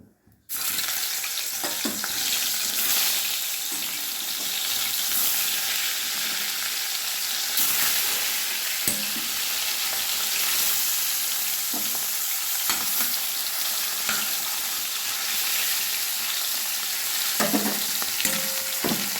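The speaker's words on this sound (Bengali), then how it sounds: "কড়াই সর্ষের তেল গরম করে নিয়েছি এবার মাছগুলো আমি ভেজে নেবো" Snakehead fish frying in hot mustard oil in a wok, a loud, steady hiss and crackle that starts abruptly and holds alone throughout with occasional clinks.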